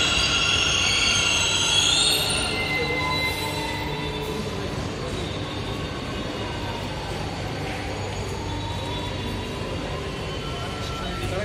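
A Green Line metro train near Yeshwanthpur station rumbles steadily with a high squeal of wheels early on, then a continuous low hum and rattle as it travels, fairly loud and close.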